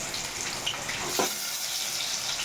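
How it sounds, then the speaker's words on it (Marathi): Chopped onion dropped into hot oil for a Vidarbha-style besan, giving a steady soft sizzle and crackle with a brief louder spit partway through. "तेल गरम झालेलं आहे. हा कांदा टाकून घेते. कांदा लालसर फ्राय होऊ द्यायचा आहे."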